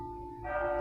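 A church clock chimes with a steady, ringing bell tone that shifts to a second, brighter strike partway through, sustained and fairly close with no voices.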